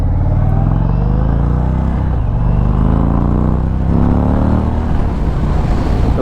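An Indian Springfield Darkhorse motorcycle with a 116 engine rumbles loudly and steadily on the move, its deep, throaty exhaust note shifting in pitch as it pulls along.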